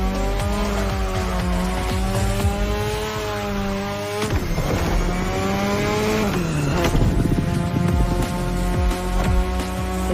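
A car in the racing game The Crew Motorfest drifts through tight corners, its engine droning and revving while tires squeal in long sliding bursts, loud and continuous with shifting pitch.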